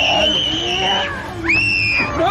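A woman's horror-film scream rises to a sustained, piercing shriek, breaks off, then returns even higher and louder, held steady before trailing into a wavering cry.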